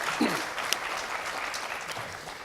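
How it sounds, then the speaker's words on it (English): Audience at a San Juan County sheriff candidate forum claps for the two candidates, an even, steady burst of applause from a room of people, moderately loud and sustained throughout. "Let's have a round of applause for our two candidates for San Juan County Sheriff."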